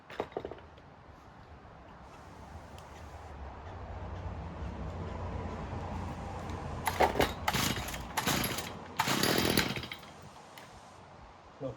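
An old, high-compression small engine is cranked on choke: a quiet stretch with faint mechanical noise, then several short, loud sputtering bursts as it pops and briefly fires, with no talking.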